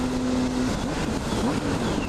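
A motorcycle engine drones loud and steady under wind rush as the bike lifts into a wheelie, its pitch wavering slightly as the throttle shifts.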